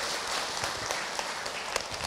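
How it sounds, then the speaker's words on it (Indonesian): Audience applause from a religious lecture congregation, steady dense clapping at moderate volume that carries on evenly for the whole stretch, with no talk over it. "Tepuk tangan buat kita semua"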